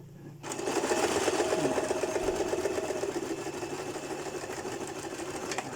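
Sewing machine running steadily as it stitches a bra seam with a French cut, a close, continuous mechanical whir that starts abruptly and holds at even loudness to the end.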